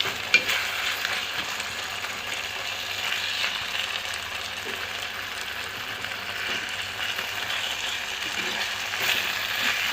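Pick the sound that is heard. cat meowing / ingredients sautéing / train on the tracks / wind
ingredients sautéing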